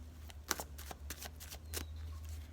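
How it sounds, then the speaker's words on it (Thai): Tarot cards being shuffled by hand in a quiet room, a close series of crisp riffling flutters and soft slaps at an uneven pace over a low steady hum, with no talking. "ขอไพ่แนะนำสามใบ ให้กับคนเกิดวันพฤหัสบดีนะคะ"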